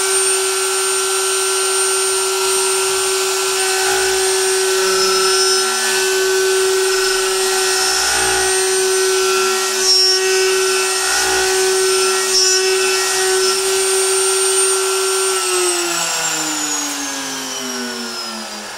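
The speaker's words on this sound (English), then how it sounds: "This is a 3-flute carbide end mill, high helix meant for aluminum, and we'll take some cuts." A 3-flute carbide end mill on a high-speed CNC spindle cuts aluminum with a loud, piercing steady whine and intermittent chatter. Near the end the spindle's pitch drops as it winds down.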